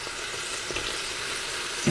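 Food sautéing in a pan gives a steady, close sizzle that runs through the whole stretch, with a few soft stir clicks and a brief knock near the end.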